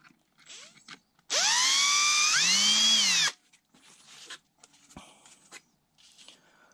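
A power drill whirs for about two seconds, its motor pitch rising partway through, with faint handling clatter before and after.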